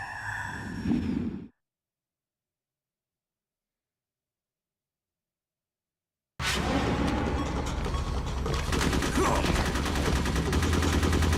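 Retro Metal Gear game gunfire: a brief noisy burst, then several seconds of dead silence, then loud, continuous, dense shooting and crackling effects through to the end, with no talking.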